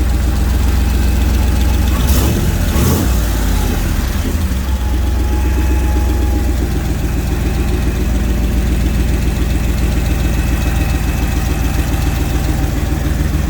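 A turbocharged EFI 460 V8 in an S480 idles steadily and loud up close, a low rumbling drone with a brief throttle blip early on before settling back to a smooth, even idle.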